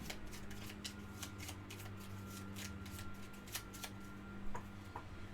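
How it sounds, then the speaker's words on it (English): Board game cards being shuffled in a solo game of Escape Plan, a quiet run of rapid riffling flicks close by under a low steady hum, with no talk. "this gets shuffled back in."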